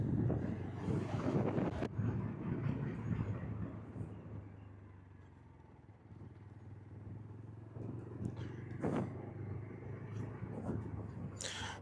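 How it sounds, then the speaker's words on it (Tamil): Loud, steady wind buffeting the microphone with a low roar, gusting throughout, plus some engine-like rumble underneath, while riding a motorcycle with a top box toward the Manapparai toll gate in Tamil Nadu. "சரியான காற்று அடிக்குதுங்க."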